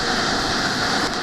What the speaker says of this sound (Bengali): ওই দেখো ট্রেন আমি সোজা করছি, পিছন হচ্ছে